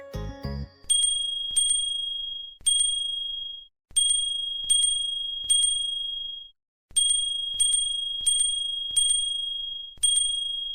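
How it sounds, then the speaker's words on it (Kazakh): A bell rings in bright, clear single and double dings with pauses between groups, each tone ringing out and decaying, after a short burst of other sound at the start. "Ал енді оларды қоңыраумен ойнап шығайық."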